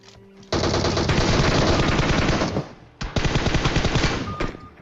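Sustained automatic gunfire from the PUBG video game on the Erangel map rattles loudly in two long bursts with a brief gap, firing from near a warehouse and with no talk.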